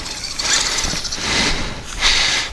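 A JLB Cheetah 4x4 1/10-scale RC monster truck accelerates hard, its electric drivetrain giving a loud, continuous whining buzz that swells and dips in bursts across the short span.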